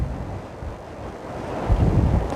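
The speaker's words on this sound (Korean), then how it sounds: "바람, 바람이냐?" Strong seaside wind at Cheollipo during a storm warning roars and buffets the microphone, with the low rumble of surf swelling underneath and no voices.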